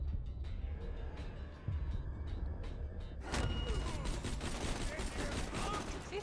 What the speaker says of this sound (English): So it's like a little nail gun or something